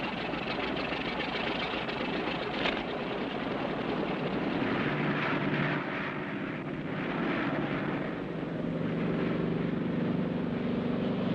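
A plane's engine drones steadily and loudly as it idles at the runway starting line, a continuous rumble with no break.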